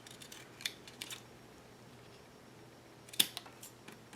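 Scissors snip through paper cardstock in a quiet indoor craft setting, a few faint, sparse cuts with one sharper snip near the end.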